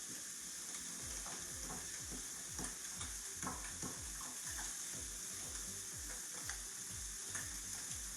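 Ricotta and parsley filling for stuffed shells being stirred in a bowl, a quiet, continuous wet scraping and squelching with repeated rhythmic strokes, faint and close.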